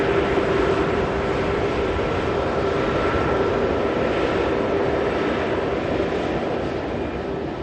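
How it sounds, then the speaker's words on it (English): An Emirates Airbus A380 airliner roars at Manchester Airport as a continuous, steady jet engine rumble at moderate distance, holding level throughout with a faint tonal whine over the broadband roar. "Love to see the Emirates Airbus A380 at Manchester."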